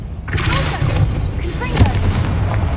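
A Confringo fire-blast spell explodes in Hogwarts Legacy, a loud booming blast with crackling debris close up over steady low rumble, with no talk over it.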